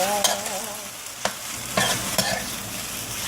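Bacon bits sizzle in a pan as they are stirred, with scraping spoon strokes and a few sharp clicks against the metal, close and fairly loud, with no talking.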